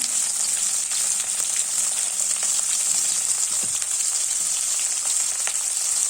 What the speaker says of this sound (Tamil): இப்போ இதை வந்து நல்லா வதக்குங்க வெங்காயம் நல்லா வதங்கி வரணும்